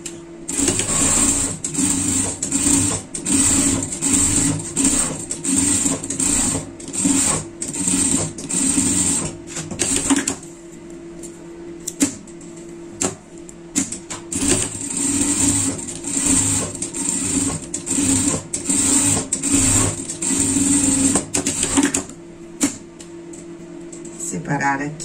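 A sewing machine stitches around a small fabric ball in rapid, continuous runs, stopping briefly midway before starting again, with a voice talking over it.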